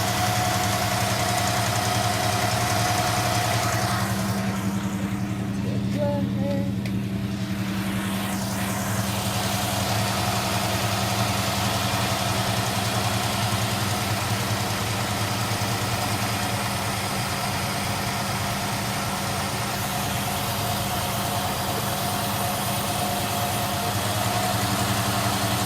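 A 1968 Dodge Charger R/T with an Edelbrock carburetor idles steadily after its idle is lowered, a low, even rumble heard close and alone throughout.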